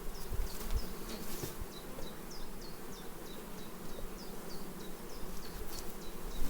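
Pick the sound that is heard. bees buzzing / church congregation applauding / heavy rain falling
bees buzzing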